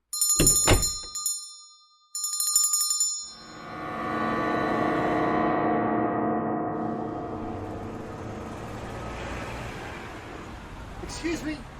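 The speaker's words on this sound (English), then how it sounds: "Stop ringing that damn bell." A bell rings in a horror audio drama: two short bright bursts of ringing, then a long resonant tone that slowly fades away over several seconds.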